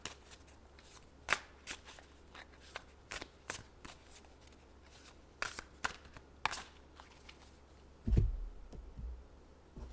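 Light Seers Tarot cards being shuffled by hand, a series of soft crisp riffles and slaps at uneven intervals, close and fairly quiet, with a brief bump near the end.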